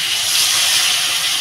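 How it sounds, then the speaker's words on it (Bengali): Prawns poured into a hot pan with kulekhara greens for a Bengali steamed prawn dish, giving a loud, steady, close hiss of sizzling that holds evenly throughout. "তো এবার মাছটা ঢেলে দেবো।"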